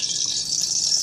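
Liquid, likely oil, poured into a cooking pot for sautéing peppers and onion, a brief steady hissy trickle that runs nonstop for about a second.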